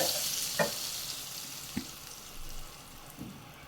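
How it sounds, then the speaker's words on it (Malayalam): Butter with a splash of olive oil melting in a pan for butter garlic paneer fried rice, giving a steady soft sizzle with a few light clinks of a utensil, alone and fairly close. "ബട്ടർ ഒന്ന് മെൽട്ടായി വരട്ടെ."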